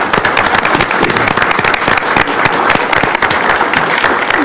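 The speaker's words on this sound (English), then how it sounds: "Let's give Tony a big round of applause." Loud, dense applause from the audience at a county commissioners' business meeting, rapid crackling claps sustained throughout without pause.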